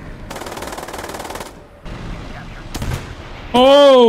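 Rapid machine-gun fire strikes a tank in War Thunder, a steady rattling burst for over a second, then scattered impacts and a sharp hit before a man's startled exclamation cuts in.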